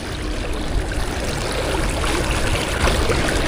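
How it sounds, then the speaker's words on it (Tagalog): Rushing water streams steadily and fairly loudly, a continuous turbulent wash of a fast current with no voices. "Malakas ang agos dito."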